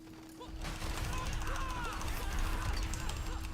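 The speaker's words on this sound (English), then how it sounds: "Now here's the explosion" Repeated explosions from a Barbarian Whirlwind build in Diablo 4, the glove effects bursting while the character spins, form a dense, steady, loud wash of game combat noise with a constant tone running underneath.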